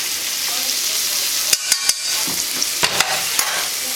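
Onions sweating in clarified butter over high heat for risotto, a close, constant sizzle broken by several sharp clicks and scrapes from stirring.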